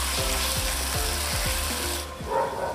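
Onions, tomatoes, salt, ginger-garlic paste and spices frying in hot oil in a pan, giving a steady close hiss with rhythmic scraping strokes of a spatula, then a brief clatter near the end.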